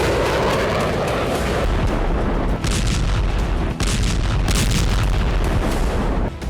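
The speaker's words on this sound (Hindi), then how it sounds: "की मिसाइलों से ताबड़तोड़ विस्फोट शुरू हो गया" Missile strikes in wartime news footage: a dense, continuous rumble of heavy blasts and booms with several sharper detonations, loud and reverberant, no voices.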